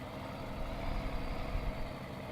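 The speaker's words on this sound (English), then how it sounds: "The engine sounds are amazing with this truck" Truck engine idling in Farming Simulator 19, heard close and loud as a steady low rumble that swells a little midway, with no talking over it.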